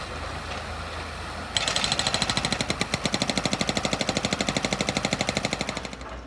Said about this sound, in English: So the mini with a pneumatic hammer is just what you need.